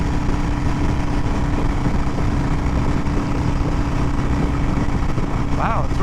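A 2020 Harley-Davidson Iron 883 rides at speed in a steady, dense engine and road roar with constant wind buffeting, holding even from start to finish.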